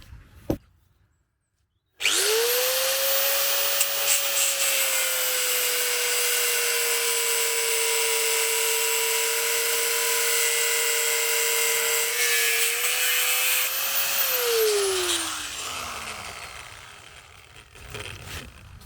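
An angle grinder cuts through metal tower material with a loud, steady, high-pitched whine that holds for about twelve seconds, then winds down and fades, alone with no talk.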